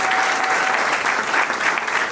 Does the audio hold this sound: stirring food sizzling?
no